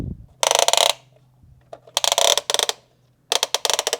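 Toy tank turret rotating 360 degrees, giving three bursts of loud ratcheting gear clatter separated by short pauses, close up with no talking.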